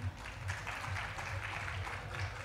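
Studio audience applause in a French podcast setting, a steady wash of clapping lasting the whole stretch at moderate volume, with low murmuring voices underneath.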